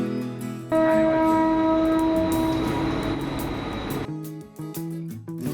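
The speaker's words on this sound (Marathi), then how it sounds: "उरण लाईनवरून धावणारी ही रेल्वे" Train running on the Uran railway line, a loud sustained horn blast over rolling rumble, then rhythmic clatter of wheels over rail joints as cars pass close by, no talk.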